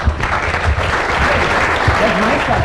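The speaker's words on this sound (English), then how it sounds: "Big round of applause." Applause from an audience, steady and dense clapping throughout, with some voices and cheering mixed underneath.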